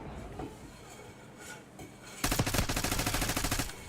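Rapid bursts of automatic gunfire from a shooter video game, loud and dense, begin suddenly partway through after a stretch of quieter game ambience.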